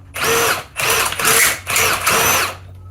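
A slotted old head bolt is driven through the head bolt threads of a 2TZ engine block from a Tarago/Previa to chase them, giving four short, close whirring bursts with brief pauses.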